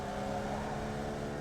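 A Formula Vee race car engine at Okayama International in iRacing hums steadily under acceleration, a dense, continuous buzzing drone at moderate level with no voices.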